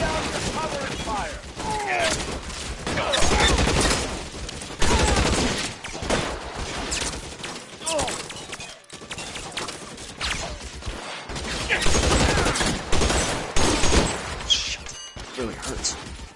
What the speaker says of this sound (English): Lay down the cover and fire!